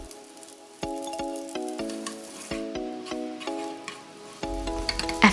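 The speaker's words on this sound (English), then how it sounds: "For the last step, we'll be mixing everything together." Cooked pasta being stirred together with pesto sauce in a pan, a steady sizzle with repeated wet scraping and stirring strokes, fairly close, under a quiet musical backing.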